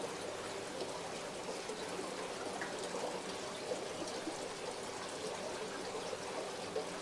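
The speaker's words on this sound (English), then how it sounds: "You can't see all this movement of water." Water moves and trickles in a koi fish tank, a quiet, steady splashing with no one speaking.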